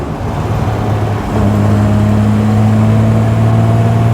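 A Triumph GT6 sports car drives along with a steady mid-pitched engine drone that swells slightly after the first second and then holds even, close and fairly loud, with no voices.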